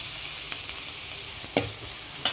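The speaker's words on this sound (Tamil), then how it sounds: "இந்த வெங்காயம் வந்து நல்லா வதங்கி வரணும், அதனால் சிம்மில் வச்சு விட்டுருங்க" Onions sautéing over low heat in a pan for an egg thokku, a steady soft sizzle with a few sharp stirring scrapes and clicks, alone and fairly close.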